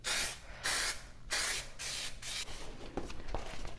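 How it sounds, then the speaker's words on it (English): A spray can sprays adhesive onto fabric for a custom center console in a 1967 Plymouth Fury VIP, in several sharp hissing bursts close up, then quicker, fainter spurts. "I'm also going to spray it."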